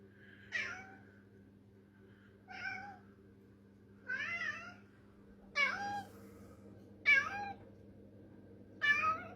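A cat meows six times at a steady pace, each call distinct and fairly close, over a low constant hum in the room.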